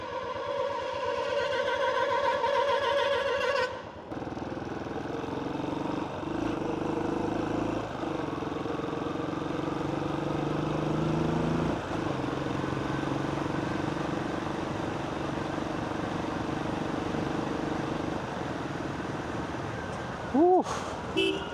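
Royal Enfield Classic 500 motorcycle from 2018, its heavy single-cylinder engine droning steadily while riding in traffic, with a loud rumble throughout and a short horn-like tone near the end.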